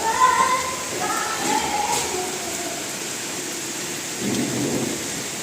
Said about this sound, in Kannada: ರಾತ್ರಿ ಇರಲಿಲ್ಲ, ಈಗ ಶುರುವಾಗೈತೆ ನೋಡ್ರಿ ಮಳೆ